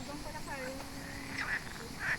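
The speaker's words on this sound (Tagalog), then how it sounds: "ano yun? Palaka? Ba't iba naman ang tunog?" A couple of short, chirpy frog croaks sound faintly in a forest, with a voice murmuring in the background.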